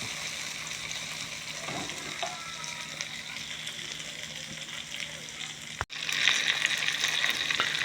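An eel stir-fry with holy basil sizzles and bubbles hard in a pan over high heat, a dense steady crackle with occasional stirring scrapes, close and fairly loud, briefly cut then resuming stronger.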